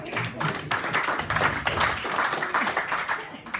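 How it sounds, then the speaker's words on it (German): Scattered clapping from a small group at a book presentation, uneven and lively, with a voice mixed in over the claps. "das ist einen Applaus wert."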